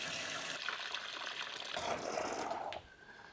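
Water pouring into a deep water culture hydroponic container, a faint, steady splashing stream that rises in pitch as it fills, then cuts off near the end.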